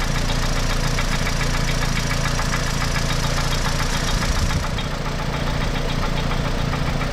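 A Toyota engine with a Valvematic system, showing fault code P1049, runs steadily at idle with a loud, continuous knocking drone close by and no talk.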